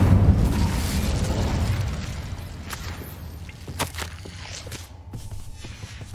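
A loud Incendio fire spell burst in Hogwarts Legacy, booming then fading into a lingering rumble, with scattered sharp cracks and soft thuds afterwards.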